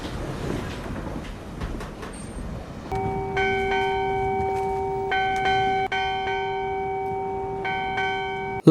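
A bell rings out through thick fog at sea, its clear struck tones starting after a few seconds of quiet and repeating steadily with a long ringing decay.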